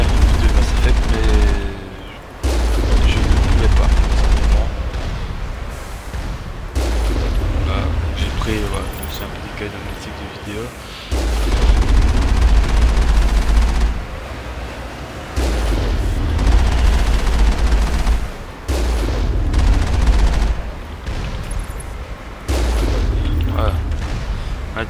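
Mass Effect railgun shot and gunfire with booming blasts and bursts, loud and close, punctuated by sharp cuts and brief lulls between volleys.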